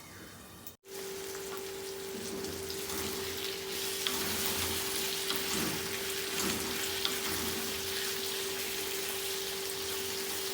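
Fenugreek greens cooking under a lid in a pan, giving a steady, even sizzle and crackle that carries on throughout after a brief cut at the start, with a faint constant hum beneath.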